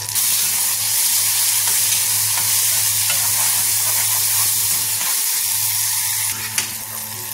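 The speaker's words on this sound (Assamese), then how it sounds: "এফালে এয়া ধুনীয়াকৈ পিঁয়াজখিনি সিজা হৈ গৈছে আৰু ইয়াতে মই এয়া বিলাহী দি দিছোঁ।" Onions and tomato frying in a pan give a steady, close sizzle with occasional stirring scrapes, continuous throughout with no voices.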